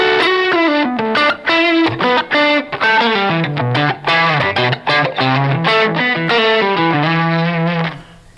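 Electric guitar through a J Rockett Melody pedal with the low end cut for a lo-fi tone, a loud, continuous run of picked notes with thin, distorted, slightly chorused sustain, no talking.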